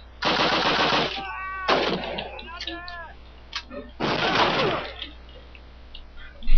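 Bursts of machine gun fire in Call of Duty during a Stalingrad counterattack, with two long rattling volleys and a third near the end, mixed with voices and game effects between them.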